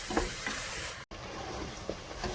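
Spice paste for a duck curry stir-fried in a pan, a steady broadband sizzle with a few soft scraping strokes, briefly cutting out for an instant midway.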